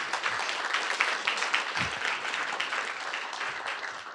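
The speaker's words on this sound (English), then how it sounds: "Give everyone, Max a big round of applause here." Audience at a Stanford seminar applauding, steady dense clapping from many hands throughout, filling the room at moderate loudness.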